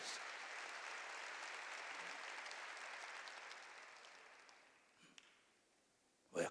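A church congregation applauding, a dense steady wash of many hands clapping that gradually fades out, followed by a couple of faint bumps and a brief louder sound at the end.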